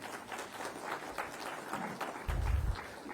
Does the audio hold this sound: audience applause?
yes